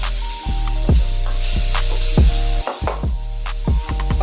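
Crushed ginger and garlic fry in oil left over from frying onions, a close, bright sizzle broken by regular rhythmic scraping strokes roughly twice a second, with no voices.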